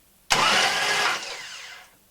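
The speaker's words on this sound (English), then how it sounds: "Probe is out, ignition is on, and turning the engine over" Engine of a T150T being cranked over with the ignition on and the spark probe out, a sudden loud onset that holds as a dense whirring roar for about a second before fading away.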